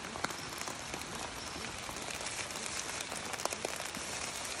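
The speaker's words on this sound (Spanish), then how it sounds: "Está lloviendo." Steady rain patters on a surface, with dense crackling drops and a few louder splashes, continuous and close throughout.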